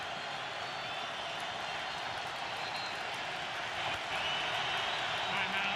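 Steady stadium crowd roar at an NFL football game in Jacksonville, Jaguars hosting the Rams in 2009, a broad continuous wash of cheering that swells slightly near the end, heard alone without talk.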